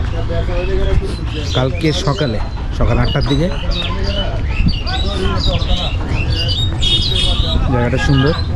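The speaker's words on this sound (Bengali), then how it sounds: "অনেক পাখির ডাক শোনা যাচ্ছে।" Many birds squawk and chirp throughout at the Shaheed Minar ghat in Rangamati, loud and continuous, while people talk over them nearby.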